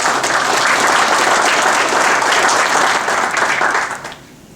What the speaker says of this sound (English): So let's give Matt a round of applause.